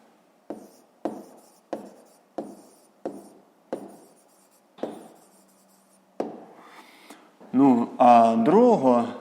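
Writing out the solution to a fifth-grade math word problem: about eight crisp, evenly spaced strokes tap and scratch one after another, close and distinct, before a voice begins speaking at the end.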